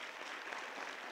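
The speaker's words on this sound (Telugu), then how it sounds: "Yeah, clap to 7th class." Seventh-class students at a holistic education workshop clap together, a faint, even patter of applause heard from a distance.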